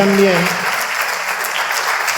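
An audience at an open lecture claps steadily for the technical crew in the booth, a dense sustained round of applause with a brief voice audible at the start.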